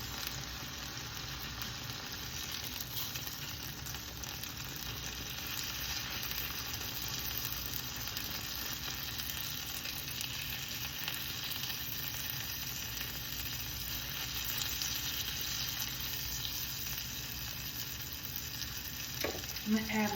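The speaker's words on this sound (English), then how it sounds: "Cooking up these ribeyes." Ribeye steaks frying in a pan, a continuous close crackling sizzle holding steady and fairly quiet throughout, with no break.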